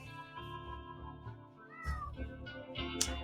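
A cat meows several times in quick succession, with one sharper, louder cry near the end, over a steady humming background of game music and sound effects.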